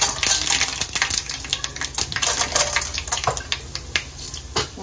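Mustard seeds splutter in about two spoons of hot oil in a home kitchen pan, a dense run of sharp crackling pops and ticks throughout, close and fairly loud.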